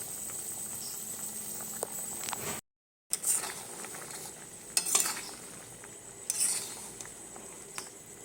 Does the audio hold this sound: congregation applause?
no